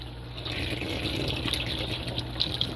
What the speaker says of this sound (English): But this thing really drains efficiently.